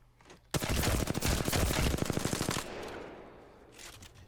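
A full-auto weapon fires a rapid, continuous burst of about two seconds in the video game Apex Legends, loud and close, then trails off into a fading echo.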